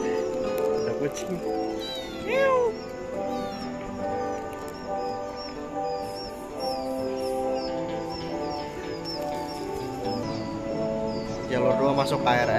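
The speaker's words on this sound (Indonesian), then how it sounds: "Ada kucing." A cat gives a few soft meows at a railway station during a train journey, heard against a steady background of station noise and people talking.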